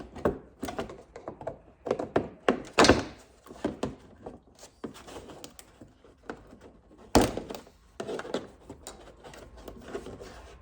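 Plastic Christmas tree fasteners are pried out of a Dodge Ram panel, producing a series of irregular close thunks, snaps and scraping rubs with short pauses between bursts.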